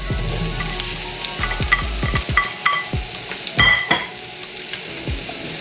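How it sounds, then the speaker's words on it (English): Asparagus sizzles and fries in a pan with olive oil, close and steady, punctuated by repeated scrapes and clinks of a utensil stirring against the pan. "I'm gonna add my asparagus."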